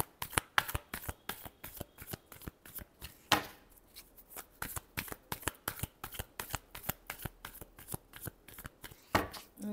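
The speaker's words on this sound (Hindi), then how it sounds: "last shuffle" Tarot cards are shuffled by hand in a steady run of crisp, rapid riffles and slaps, close and fairly quiet, continuing without pause for several seconds.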